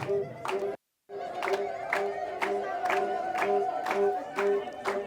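An audience at a televised stage event honouring a teacher claps in a steady rhythmic beat, fairly close and moderately loud after a brief silent gap, with voices and crowd murmur running over the clapping.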